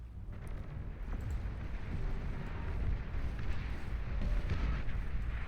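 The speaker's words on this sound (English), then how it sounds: "There goes the barrage falling once more" An artillery barrage lands in the strategy game Beyond All Reason as a continuous, rumbling roar of overlapping explosions. It is steady and moderately loud throughout, with no talk.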